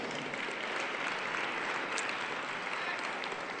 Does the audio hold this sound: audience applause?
yes